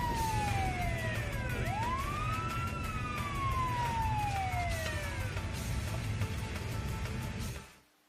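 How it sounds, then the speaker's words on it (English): A police siren wails in sweeping rising and falling tones over low traffic rumble, fairly close, then cuts off abruptly at the end. "Police car."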